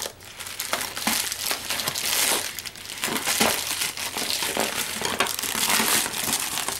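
A taped recycled mailer bag is pulled open, crinkling and crackling loudly with tearing of tape in close, continuous bursts for several seconds, no talking.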